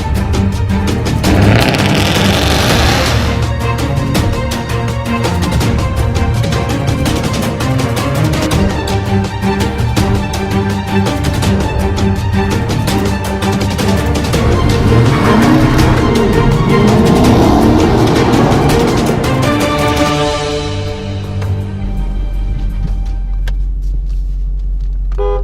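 An automatic Mustang GT 5.0 and an automatic Challenger RT 5.7L race on the street: loud, sustained engine roar and rumble with rising revs, which cuts off abruptly near the end to a low idle hum.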